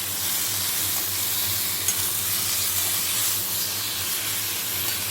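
Chopped raw mango stir-fried in a pan with tempered spices, salt and turmeric for a sweet-sour chutney, a steady close sizzle and hiss with faint stirring scrapes throughout and no voices.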